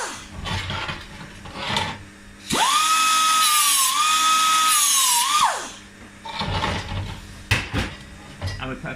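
A small high-speed power tool whines for about three seconds while cutting a bevel prep on an aluminium part for a Triumph Tiger 90 motorcycle, with shop clatter and brief knocks before and after.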